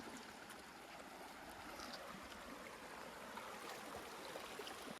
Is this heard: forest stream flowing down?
yes